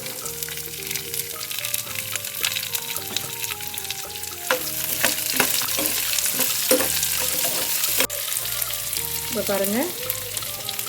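Chopped onions fry with roasted peanuts in a pan, a loud continuous sizzle with repeated stirring scrapes, close by; a voice speaks briefly toward the end.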